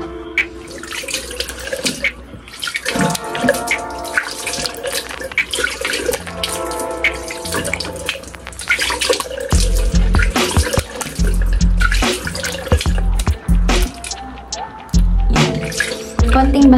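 A bathroom tap runs while a face is splashed and rinsed with water during a skincare routine, loud close splashing and gurgling in irregular bursts with a steady flow beneath.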